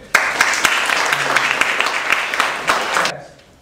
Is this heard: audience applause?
yes